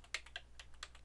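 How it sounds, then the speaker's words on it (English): Keys clatter on a computer keyboard in a short, quiet burst of about five or six separate clicks, each one close and crisp, with no voice over them. "I can type"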